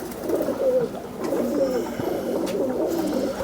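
A pigeon coos nearby in soft, low, repeated murmurs over steady background noise.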